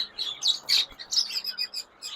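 Ringneck parakeets chirp in bright, repeated bursts, several close calls overlapping in an uneven rhythm for a couple of seconds with no talk.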